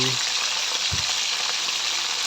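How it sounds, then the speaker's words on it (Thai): Sliced pieces of pork frying in oil in a pan, a steady bright crackling sizzle that fills the whole clip, with a soft low bump of movement near the start. "ตั้งกระทะใส่น้ำมันนะครับผม แล้วก็เอาไปทอดนะครับ"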